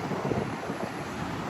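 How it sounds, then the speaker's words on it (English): Strong wind gusting over Sunny Isles Beach in Florida, a steady broadband rush with faint surf beneath, buffeting the microphone continuously and heard alone. "Very windy day, too."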